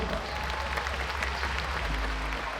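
An arena audience at the Hong Kong Coliseum during a street magic show applauds a guest, producing a steady wash of clapping from a large crowd with a low rumble beneath.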